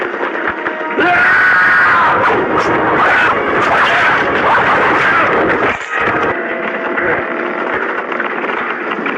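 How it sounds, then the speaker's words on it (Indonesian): A chaotic, loud battle: bursts of gunfire crackle amid shouting and screams, with a brief lull partway through before the noise picks back up. "Situasi di halaman padepokan masih bising dengan suara tembakan."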